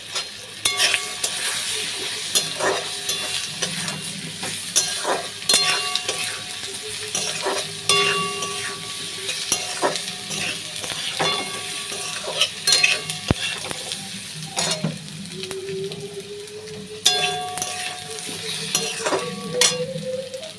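Potatoes frying with turmeric, chilli powder, tomato, cumin and ginger for a simple vegetarian khichuri, sizzling steadily while a spoon stirs and scrapes the pot in repeated clinks and knocks, close and fairly loud throughout.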